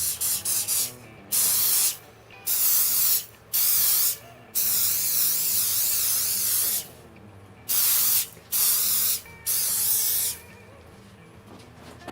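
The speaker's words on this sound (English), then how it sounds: "We'll hit this with the accelerator and put another coat on." Accelerator is sprayed onto a guitar's glued finish in about eight short, loud hissing bursts from an aerosol can, each lasting under a second, separated by brief pauses and one longer continuous spray.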